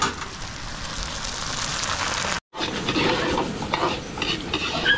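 Pork belly sizzles steadily in hot oil for catering, with stirring scrapes and crackle throughout, a brief break midway before the frying resumes, loud and close.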